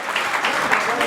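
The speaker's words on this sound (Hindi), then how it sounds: "एक बार जोरदार फिर से ताली बजाकर मोमेंटो दीजिएगा।" Audience applause at a live event as a memento is handed to a guest, steady clapping throughout with speech over it.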